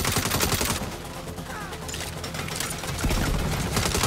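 Rapid turret gunfire in the video game Saints Row, loud bursts of repeated shots that slacken briefly in the middle and then resume hard and dense, with no talking.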